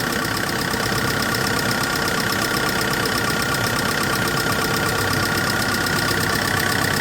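A 2007 Bongo III King freezer truck's diesel engine runs steadily and loudly throughout, a continuous mechanical drone with a rapid knocking rattle, unchanging from start to finish.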